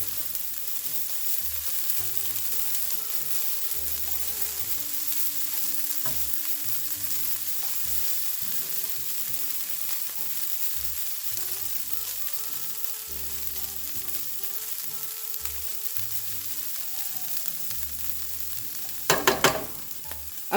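A veggie hash of caramelized vegetables and black beans frying in a pan, giving a steady, close sizzle and crackle throughout, with a brief burst of clattering stirring near the end and no talking.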